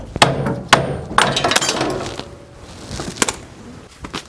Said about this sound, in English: we can just go ahead and use a hammer